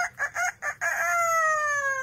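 A talking parrot mimics a rooster's crow: four choppy clucking syllables, then a long drawn-out cock-a-doodle-doo call, clear and close with no other sound.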